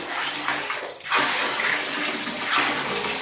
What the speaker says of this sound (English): Let me pour a little bit of hot water on top of it